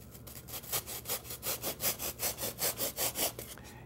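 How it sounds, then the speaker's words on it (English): Coping saw rough-cutting wood cove molding, about fourteen even back-and-forth strokes in a steady, close rhythm, moderately quiet and with no talking. "use a coping saw, or you can take it to the bandsaw and just kind of rough cut close to"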